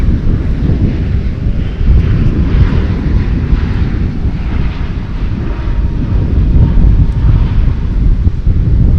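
A fixed-wing airliner roars down runway 18 left at DFW Airport on takeoff, a loud, broad, sustained engine rumble with wind buffeting, no voices present.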